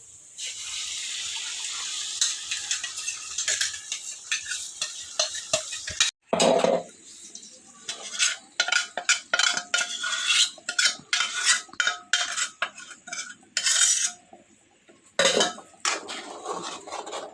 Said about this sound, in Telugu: ముందుగా పట్టిన పేస్ట్ అయితే దీంట్లోకి వేస్తున్నాను